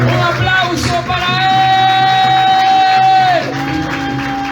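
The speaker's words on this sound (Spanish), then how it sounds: "Un aplauso para Él." A church congregation cheers and shouts loudly with a long sustained whoop over broadband applause-like noise, then the voices drop off slightly near the end.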